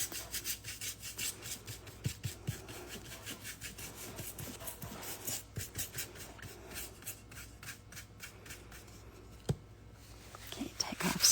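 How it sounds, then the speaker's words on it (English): Wax dry-brushed onto painted furniture with a near-empty brush, rapid scratchy bristle strokes in a steady back-and-forth rhythm, close and fairly quiet, with soft talking underneath. "if you take off all the excess and just come along and start doing just a dry brush"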